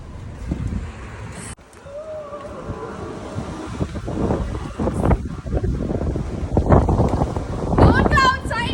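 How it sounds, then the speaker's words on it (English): Strong gusting wind outdoors in the UK, around 40 mph, roaring and buffeting the microphone in heavy rumbling bursts that swell toward the end, with people talking faintly underneath. "It is so windy outside, it is 40 miles per hour."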